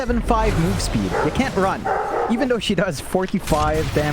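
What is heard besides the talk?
dog barking in the background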